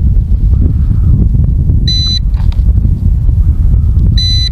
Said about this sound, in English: It just keeps beeping.